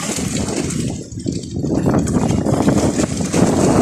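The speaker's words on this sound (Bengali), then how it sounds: "যে ছোট্ট একটা ট্রলার আসতেছে" Small fishing trawler's engine chugging on a rough Meghna river, a steady low drone mixed with wind buffeting the microphone and water noise throughout.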